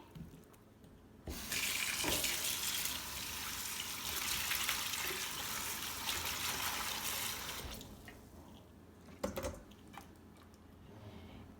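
Tap water runs loudly into a sink while bitter gourd and onion pieces are rinsed, a steady close rush lasting several seconds, followed by quieter handling splashes and drips.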